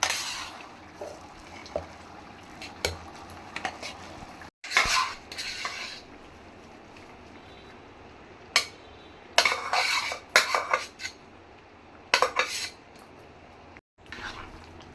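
A spoon stirs and mashes cooked sambar rice in a metal pot, giving intermittent scraping and clinking bursts of varying length separated by quieter stretches, close and alone with no talking.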